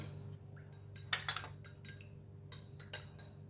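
Light soy sauce and oyster sauce get stirred together in a small bowl, quiet clinks of a utensil against the dish in a few short bursts over a low background hum.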